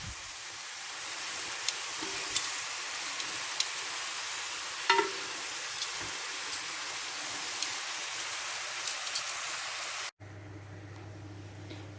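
Beef pieces browning in a pan for bourguignon give a steady, close sizzle with occasional small pops and stirring clicks, ending in a quieter low hum.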